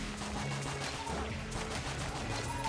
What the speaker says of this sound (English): This one actually shoots bullets that bounce.